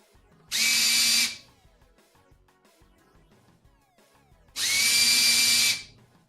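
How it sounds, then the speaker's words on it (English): A handheld power drill boring holes to mount casters on a shop utility cart, two loud steady whirring bursts of about a second each, separated by quiet handling sounds. "So, let's grab the drill."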